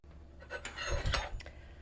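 A spoon and fork clink against a bowl of broth in a few light metallic taps and scrapes, close and quiet, with no talking.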